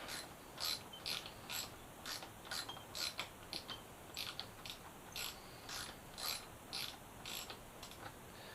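A ratchet loosens bolts on a Ninja ZX-636 motorcycle during a rebuild, giving a string of quick, quiet clicking bursts in an uneven rhythm, close by with no talk.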